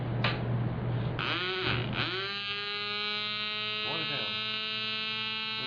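A small electric motor runs on rectified DC current in an automotive electrical test setup, a steady electrical hum with a rising whine as it spins up, close and continuous.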